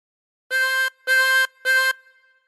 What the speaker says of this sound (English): blow into 5 3 times